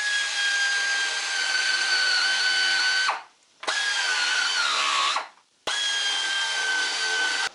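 A power tool on a Polaris runs in three sustained, high-pitched whining bursts separated by brief stops, with the pitch dipping under load during the second run, loud and close with no speech.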